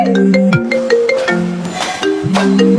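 A loud, close phone ringtone plays a repeating electronic melody of bright, sliding tones, cycling without pause.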